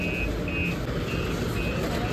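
Steady, evenly spaced high-pitched reversing beeps from a truck parking, several in a row over a continuous low engine rumble.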